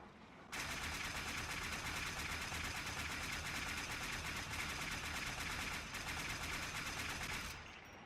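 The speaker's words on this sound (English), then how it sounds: "So I'll empty out the full 60 bullets and we'll compare the two speeds between the two guns." Boltor gun from the video game Warframe fires a full 60-round magazine in one rapid, unbroken automatic burst lasting about seven seconds, loud and even, then stops.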